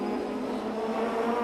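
Touring race cars in a 1993 British Touring Car Championship round battling for second place near Druids, a continuous mid-distance engine roar from several cars sustained at fairly low level with no pauses.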